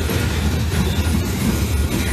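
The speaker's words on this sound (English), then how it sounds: "And here comes the head end with two SD-40 locomotives." A Wheeling & Lake Erie freight train led by two SD-40 locomotives passes close by, a loud, continuous rumble of diesel engines and rolling wheels filling the whole moment without pause.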